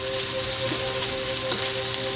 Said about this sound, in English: go ahead and drop your hot dogs in there and keep simmering for a little bit